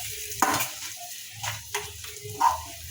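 Mashed potato filling for paratha is stirred and pressed around a hot pan, giving a low sizzle with irregular scraping and thudding strokes of the spoon.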